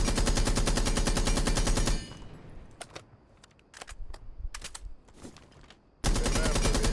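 Rapid automatic gunfire from Blackbeard's rifle fitted with a compensator in Rainbow Six Siege, loud sustained bursts at the start and end with scattered single shots and quieter clicks in between.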